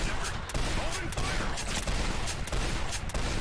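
A shotgun fires over and over in the video game Legendary, a dense run of loud blasts and clatter that fills the moment with repeated, closely spaced shots.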